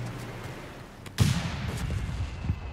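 An artillery barrage fires explosive rounds in Company of Heroes 3 during an Italy campaign battle: one heavy boom lands, followed by rumbling bursts and scattered blasts that roll on under the din.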